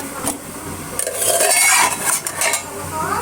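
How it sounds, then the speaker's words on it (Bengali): A lid is lifted off a pot of homemade pudding with a close run of metallic clinks and clattering handling, rising in a busy burst mid-way before settling, with no talking. "ঢাকনাটা আমি খুলে দেখি।"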